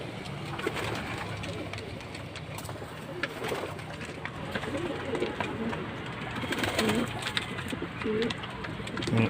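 Soft, low cooing of pigeons repeats over a steady murmur of background noise, close by and gentle.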